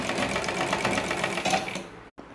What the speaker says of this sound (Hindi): तो चलिए हम यहाँ पे सिलाई को लगाना स्टार्ट करते हैं।